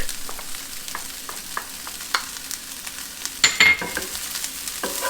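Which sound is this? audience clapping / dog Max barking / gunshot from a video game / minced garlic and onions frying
minced garlic and onions frying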